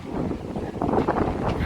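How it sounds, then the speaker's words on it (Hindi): Strong wind blusters across the microphone while someone cycles on a windy day, a loud, rough, continuous rush that swells in gusts, with no speech. "वो देखो जी बहुत तेज हवा है ना"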